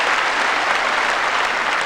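A crowd keeps up steady, dense clapping after a good bowl steals the shot in the 1984 World Singles lawn bowls final, Belliss against Willie Wood, filling the whole moment with even applause.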